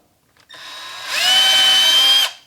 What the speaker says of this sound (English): I'm gonna pre-drill my top hole.